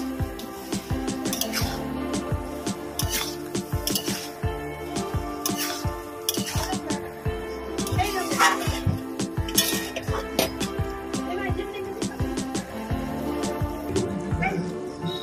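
Fried prawns stirred and cooked down in a pan of taro-stem curry, with a steady run of metal spoon clinks and scrapes against the pan over a low sizzle, close and busy throughout.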